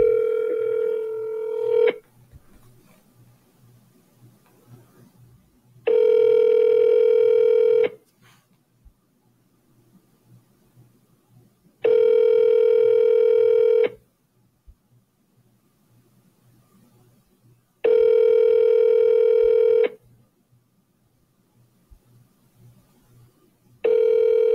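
A phone call to a dumpster rental business: after the dialing, a steady repeating ringback tone plays close and clear, about two seconds on and four off, with four rings and near silence between them.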